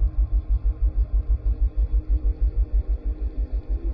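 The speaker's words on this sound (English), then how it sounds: "This car, an awful lot of sound comes from the exhaust." Jaguar F-TYPE SVR engine and exhaust rumbling low and close, with a steady pulsing throb repeating several times per second, alone without any talk.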